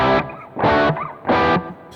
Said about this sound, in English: Fully counterclockwise, you can have some shorter trails and less of a complex sound.